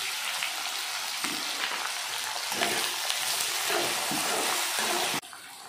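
Mustard seeds, cumin and onions fry in hot oil for a large batch meal, a loud, dense, continuous sizzle and hiss up close with small bursts of spattering throughout.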